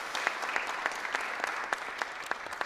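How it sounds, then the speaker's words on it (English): Audience at a school district address applauds a string quartet after its performance, the clapping soft and distant with regular sharp beats standing out from a diffuse wash. "Please give them a round of applause for the beautiful music."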